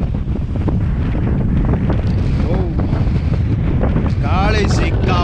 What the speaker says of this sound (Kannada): ಗಾಳಿ ಸಿಕ್ಕಾಪಟ್ಟೆ ಇಲ್ಲಿ